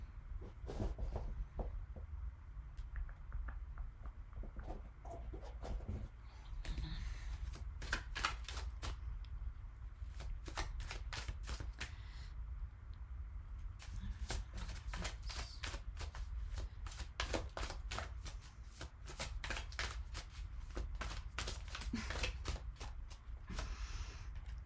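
Oracle cards being shuffled for a tarot reading, a long run of rapid papery riffles and flicks in repeated bursts, close and steady, with no talking.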